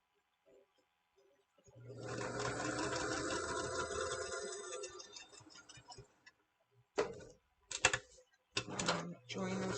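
A sewing machine stitches a tool apron, running steadily for about four seconds, then firing in several short, sharp bursts with brief pauses between them.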